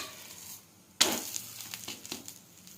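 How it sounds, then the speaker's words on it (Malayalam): Soppada, a Karnataka flatbread, dropped onto a hot dosa griddle: near silence, then a sudden loud sizzle that settles into crackling pops and fades, with no talking. "അതിനുശേഷം നമുക്കിത് ചൂടായ ദോശക്കല്ലിലേക്ക് ഇട്ട് കൊടുക്കാം"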